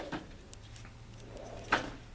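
A drawer on a diagnostic tool cart slides open in a workshop, a soft scraping rumble ending in a sharp clack, faint and close with no one speaking.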